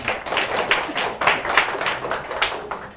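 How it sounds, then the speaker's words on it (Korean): Audience applause for a presenting team in a university service design class, a dense steady patter of clapping from a room of people lasting the full few seconds without fading. "박수 한번 쳐주세요."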